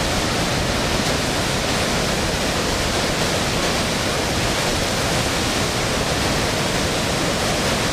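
Kaveri river in flood after heavy dam release near Srirangapatna, its water rushing in a loud, continuous, broadband roar that fills the whole stretch without a break, with no voices.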